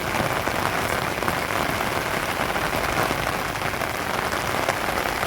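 Steady, dense rain pours down over farm fields where water is standing, a constant close hiss with no pauses and no voices.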